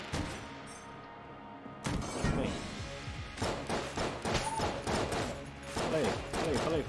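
Rapid gunfire bursts from the Enter the Gungeon video game, starting quietly and then turning into a dense, continuous barrage of shots and thuds with a voice talking over parts of it.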